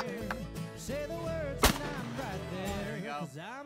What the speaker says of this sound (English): Trap shooting was so much fun.